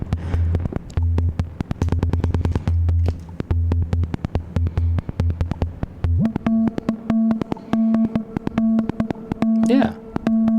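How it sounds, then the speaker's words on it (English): Synthesizer played through heavy reverb: loud, rapidly repeating buzzy pulses over a low droning tone that jumps up in pitch midway, with a washy ringing tail, no voices. "Add a little reverb. That's a lot of reverb."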